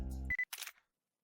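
A quick camera shutter click in the Hello Lady! visual novel: a sharp mechanical snap right after the music cuts off, followed by silence.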